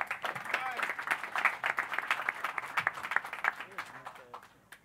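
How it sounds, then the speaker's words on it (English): Audience applause welcoming boxing figure Mike Stafford at a Showtime press event at Barclays Center in New York, a dense steady wash of clapping that tapers off near the end, with voices mixed in. "big round of applause to Mike Stafford"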